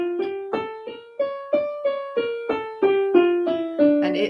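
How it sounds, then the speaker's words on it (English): A D harmonic minor scale climbs note by note on a plucked, piano-like instrument, about nine evenly spaced tones, each struck cleanly and decaying, played alone and fairly quiet. "The first is the harmonic minor scale,"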